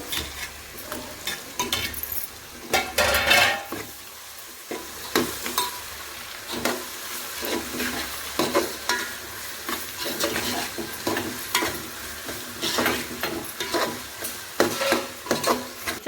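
Tomatoes sizzle in a hot pan while a utensil stirs them, with repeated scraping and knocking strokes over a constant frying hiss and no talking.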